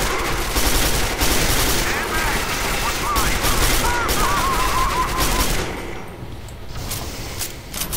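Sustained gunfire in Quake 4, a dense rapid volley of shots that carries on loudly for about five seconds before thinning out to scattered quieter bursts, with a voice talking over the shooting.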